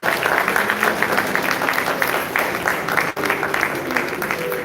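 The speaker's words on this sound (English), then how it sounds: "Let's give God a big round of applause." Audience applause at a celebration honoring a civil rights attorney's Medal of Freedom, a loud sustained crowd clapping with a brief dip near the end, full and close.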